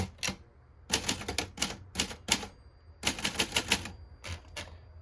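Typing on a 1950 Everest Mod. 90 pica typewriter: bursts of crisp, close key strikes in quick runs with short pauses, some single clacks between, loud and alone.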